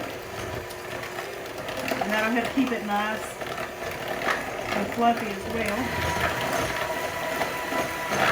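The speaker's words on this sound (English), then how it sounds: "I'm going to use my blender over here" A kitchen blender whirs through a cream cheese mixture, a steady mechanical drone with grinding pulses, heard at moderate distance under a person talking.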